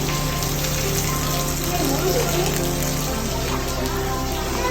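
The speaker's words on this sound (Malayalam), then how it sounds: "നല്ല മഴയുണ്ട് കേട്ടോ" Heavy rain falls steadily at a family staycation in Kochi, a constant dense hiss of water filling the whole stretch at an even level, with a low hum underneath and no break.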